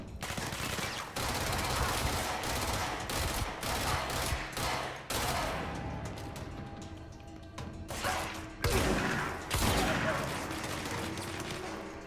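Rapid gunfire from a powerful weapon in the game Control, dense and sustained over about twelve seconds with repeated bursts and crashing impacts, continuous and loud throughout.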